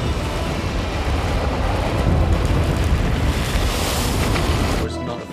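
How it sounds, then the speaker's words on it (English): Powerful ocean waves crash and roar against a rocky shore where a yacht is being tossed, a loud continuous surge with wind buffeting the microphone before it briefly eases at the end. "The waves are simply too powerful."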